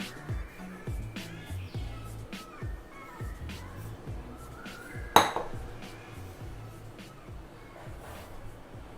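Self-raising flour being sifted through a metal sieve in a home kitchen, heard as steady soft rattling with irregular metallic taps and clinks and one sharp louder knock midway, fairly close.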